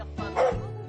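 A drug detection dog in training gives a single short bark, close and fairly loud, over a low steady background hum.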